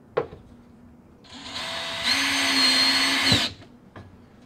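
A power drill drives screws to mount a pull-out trash can under a cabinet. It makes one sustained, loud whirring run of about two seconds that rises in pitch midway, with faint knocks before and after.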